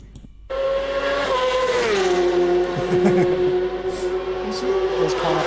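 Race cars on the opening lap, a loud nearby engine note that jumps in suddenly and holds a sustained revving whine, with faint tire noise beneath and no talk.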